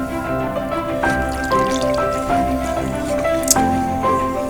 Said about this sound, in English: Now we're gonna add up the rest of the coconut cream.